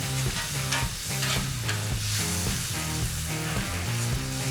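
Barbecue sauce and meat caramelize in a hot pan, a continuous sizzle broken by repeated rhythmic stirring scrapes and clatter, close and fairly loud.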